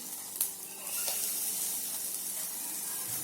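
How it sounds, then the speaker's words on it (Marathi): Pigeon pea (tuvar) grains in salted water in a pot on the stove, giving a steady close hiss and soft sizzle of heating water with a couple of faint clicks early on. "इकडे मी हे बाकीचे तुरीचे दाणे उकळायला ठेवले आहे"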